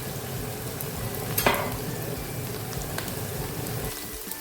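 Steady hissing sizzle of a hot pan on the stove for egusi soup, with a brief louder crackle partway through.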